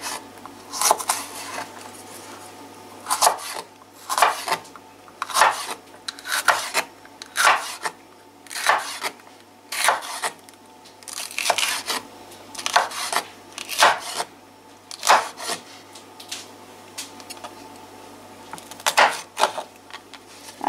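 Knife slicing red, yellow and orange bell peppers into long strips on a board, a steady series of crisp close cuts roughly every second, with no talking.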